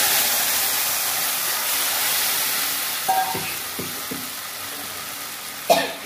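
Jute leaf broth poured into hot mustard oil with green chilies sizzles loudly and continuously, with a few soft clinks and stirring knocks and a sharper clatter near the end.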